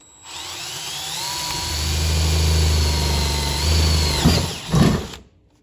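A power drill bores into a workpiece lubricated with cutting oil, run at half to three-quarter throttle under light to medium pressure. It gives a steady, close whining drone for about four seconds, then two short louder surges before it stops.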